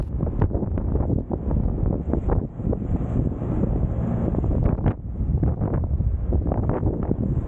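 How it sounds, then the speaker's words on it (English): Strong wind at Nassau port in the Bahamas, near a docked cruise ship, buffets loudly and continuously with gusty roaring rumble throughout, no voices over it. "Do you hear that wind?"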